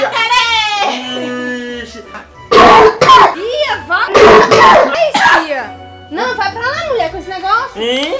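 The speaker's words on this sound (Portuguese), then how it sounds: "Tá ali tossindo em cima de todo mundo." Several harsh coughs burst out amid excited children's voices and high-pitched cries, close and loud, with chatter continuing around them.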